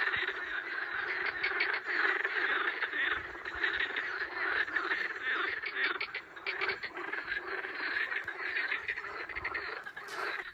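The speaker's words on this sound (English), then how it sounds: "a full choir of frogs rose to the surface" A dense, unbroken chorus of frogs croaks from an evening lake in Albania, many voices trilling and rasping together at a steady, moderate level with no gaps and no talk.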